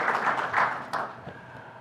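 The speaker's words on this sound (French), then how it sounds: "Je vous demande de souhaiter la bienvenue et d'encourager nos intervenants avec vos applaudissements" A conference audience at a Moroccan port and supply-chain panel applauds to welcome the speakers, a steady wash of clapping from many hands that carries through without a break, with no voices over it.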